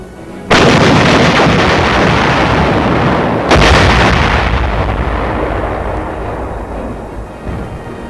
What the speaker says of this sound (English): The commanding officer passes the information on to the artillery, and they go to work.